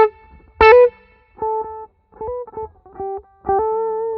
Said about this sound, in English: this can be done with like an auto wah or an auto filter.